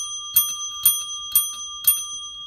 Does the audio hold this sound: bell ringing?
yes